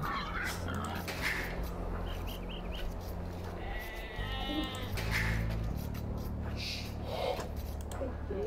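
Sheep bleat in a match of the strategy game Age of Empires 2, several wavering cries over busy battle and ambient game sounds, with other faint animal noises mixed in.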